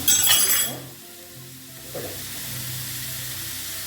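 Onions frying in oil in a pan for a Kerala chicken thoran, a loud burst of sizzle at first that drops to a steady, quieter frying hiss with a brief stir partway through.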